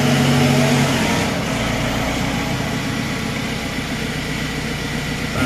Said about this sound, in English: at the moment you'll see the speed and revs come up